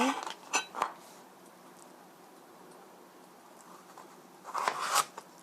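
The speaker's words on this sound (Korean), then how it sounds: "여기에 들어갈 채소를 썰어 보겠습니다" A knife chops carrot on a cutting board for spaghetti with chicken, giving a quick cluster of sharp taps at the start and another short burst near the end, with quiet in between.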